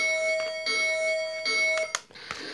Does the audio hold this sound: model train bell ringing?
yes